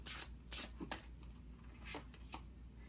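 Tarot cards shuffled to draw two cards make soft, faint riffling swishes, a few separate bursts over a steady low background hum, with no speech.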